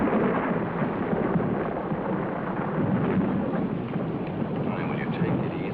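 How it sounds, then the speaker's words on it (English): Thunder rolls as a steady, loud, muffled rumble through a 1950s television sitcom scene, sustained for several seconds without a break. "That's only thunder."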